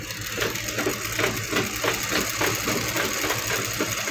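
Sewing machine stitching along a blouse strip, a steady close mechanical whir with rapid rhythmic needle ticks running continuously, no talking.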